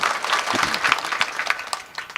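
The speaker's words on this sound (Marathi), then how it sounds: "टाळी तर या सगळ्या माझ्या भावंडासाठी पण वाजवायला सगळ्या." A kirtan audience bursts into brief, dense applause, many hands clapping loudly and close together for about two seconds.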